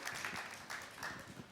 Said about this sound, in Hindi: उसके लिए मैं दोबारा तुम्हारे लिए ताली बजाना चाहता हूं